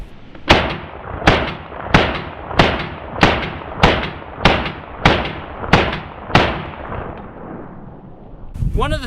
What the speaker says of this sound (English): that was rapid fire. Well, I mean really rapid fire.